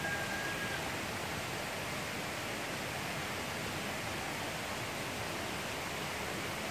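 A river flowing in front of a house in Purwokerto, a steady broadband wash of water that stays even and unbroken throughout, moderately distant with no voices.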